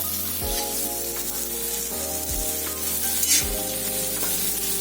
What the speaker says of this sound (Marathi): आता आपण त्यामध्ये उकडलेले बटाटे घालूया